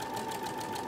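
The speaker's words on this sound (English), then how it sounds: "I let the sewing machine do the work" A sewing machine running a gathering stitch to ruffle fabric for a buffalo check tea towel, a steady close motor whir with a fine continuous rattle, brief and moderately quiet.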